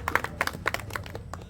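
Scattered, fairly faint hand claps from an audience at a World Mangrove Day ceremony, a short burst of uneven applause in a hall.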